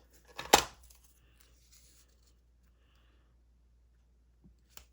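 Scissors make one sharp close snip through a piece of paper for a scrapbook layout, followed by near silence and a faint tap at the end.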